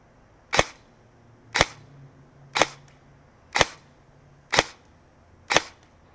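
A G&G SSG-1 airsoft AEG fires single BBs through a chronograph, six sharp, loud snapping shots evenly spaced about one second apart, close by with quiet gaps between and no talking.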